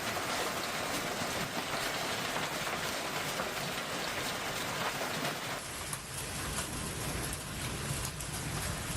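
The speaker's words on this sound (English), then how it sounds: "an intense thunderstorm that produced large hail, massive amounts of rain," Heavy rain during a severe thunderstorm with large hail in Calgary, a dense, steady downpour hissing and pattering loudly on surfaces nearby, continuous with no voices.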